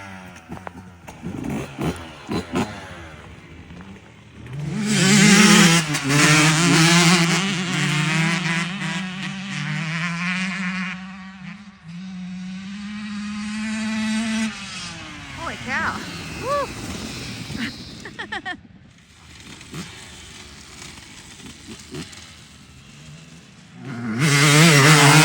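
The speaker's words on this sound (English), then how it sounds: "The bike's idling good." A motorcycle on racing fuel revs up loudly and close, holds a high strained tone, then drops back and settles into a steady idle before a final blip of throttle.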